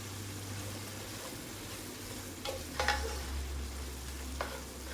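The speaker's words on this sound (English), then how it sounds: "We're on high heat, so most of the liquid is going to cook away" Food cooking in a pan on high heat gives a steady, quiet sizzle with a few brief stirring scrapes near the middle, no voices over it.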